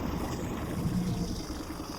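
A Mercury Tohatsu 25/30 hp EFI outboard motor with a Honda big tiller runs in gear after a repair, giving a steady low engine drone with watery churning, constant and close.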